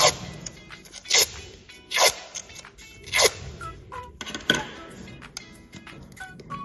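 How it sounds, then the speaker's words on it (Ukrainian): Scissors snip through paper strips for a children's lamb appliqué craft, cutting a shaggy fringe. Several crisp, separate cuts come at an uneven pace, close and fairly quiet, with soft paper rustling in between. "Нам треба всі ці полосочки ось так от зробити ножицями."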